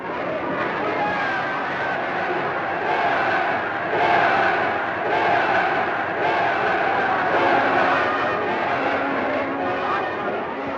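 A large crowd roars and cheers at a Rákosi-era political rally in Hungary, a dense, steady wall of massed voices with surges of shouting throughout.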